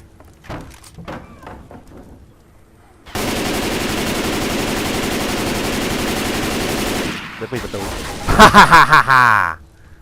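Automatic gunfire in the video game Left 4 Dead 2: a loud, unbroken burst lasting several seconds, then a rapid stuttering volley. Voices talk before the shooting starts.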